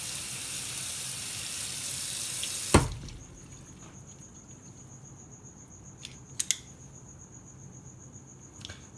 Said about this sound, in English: rinse that off with some water